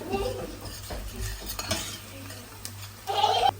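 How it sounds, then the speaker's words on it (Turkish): Tomato paste fries with onions in a pan, a continuous sizzle under irregular stirring scrapes and utensil knocks against the pan, close-up, with a brief louder sputter at the end. "Şimdi salçamızı ekliyoruz. Salçamızı da kavuracağız."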